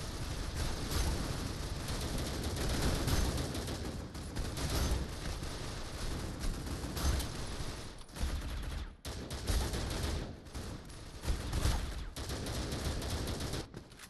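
Dense, continuous video game gunfire with rapid automatic bursts and heavy volleys, loud and close, nearly unbroken apart from a few short gaps.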